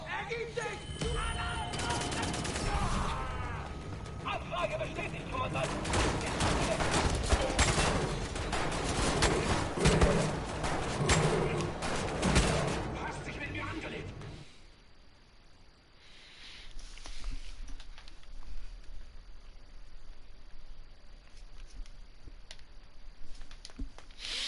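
Gunfire from Wolfenstein: The New Order, a dense run of rapid shots over roughly fourteen seconds, then quieter ambience, with a voice talking over parts of it.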